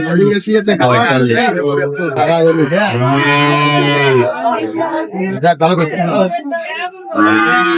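Cattle, including Sahiwal bull calves, low loudly and repeatedly at a cattle market, long drawn-out moos close by, overlapping with busy chatter from people talking nearby.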